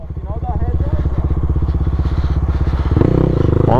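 Tuned Yamaha DT 200 two-stroke motorcycle revving loud and close with a rapid crackling beat, rising in pitch near the end during a night street ride.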